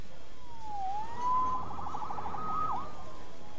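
A police siren in the video game Spider-Man on PS4 wails, rising and falling, fairly faint and a little distant, over a low background murmur.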